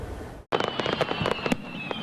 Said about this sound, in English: While fireworks lit up our nation